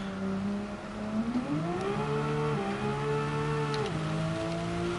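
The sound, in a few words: car engine in Gran Turismo 7 video game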